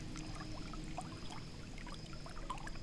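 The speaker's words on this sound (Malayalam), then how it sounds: "ചെറിയ അരുവിയുടെ ആ സൗണ്ടും നല്ല കാറ്റും" Small stream trickling at the Pinnapuram waterfalls in Kurnool, Andhra Pradesh, a steady close flow of water with light splashes throughout, no voices.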